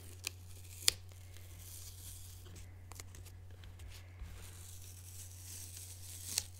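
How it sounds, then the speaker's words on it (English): Painter's tape peels off a small painted object in a faint, drawn-out tearing rasp up close, with a few sharp crinkles and snaps as it lifts away, over a low steady hum and no talk. "Peel the tape off."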